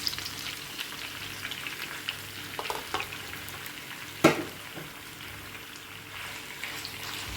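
About 600 grams of shrimp sizzle steadily in a hot pan, a soft continuous frying hiss with occasional pops and one sharper clatter partway through.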